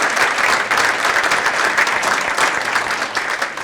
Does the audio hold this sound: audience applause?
yes